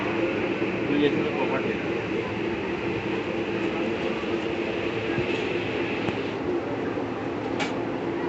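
A train at a railway station on a trip to Darjeeling, heard as a steady broadband rumble of rail and station noise throughout, with faint clatter and a brief high squeal near the end.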